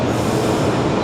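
An Algiers metro train sits at an air-conditioned station, giving off a steady, close rumble of rail and train noise with no voices over it.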